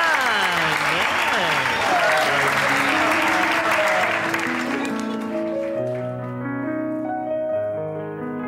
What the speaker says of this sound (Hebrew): בואו ניתן להם את מחיאות כפיים